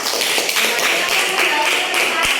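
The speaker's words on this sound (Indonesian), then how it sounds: "Tepuk tangannya mana?" A classroom of students breaking into applause for a group presentation, a dense, loud patter of many hands clapping at once that stays steady throughout.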